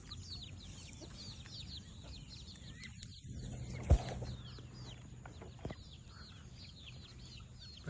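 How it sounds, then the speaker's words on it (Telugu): Free-ranging country chickens cluck softly at a distance while moving around a village yard, their scattered calls spread over steady outdoor background noise with one brief thump. "ఇగో నా చుట్టే తిరుగుతాను చూడండి, న్యాచురల్గా తిరుగుతాను కోళ్ళు"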